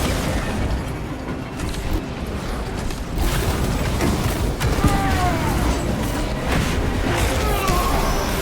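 Mechanical clicks, ratcheting and metallic clanks of a gun being reloaded in the Warhammer 40k video game, close and loud over a constant rumble of battle with distant booms and no talk.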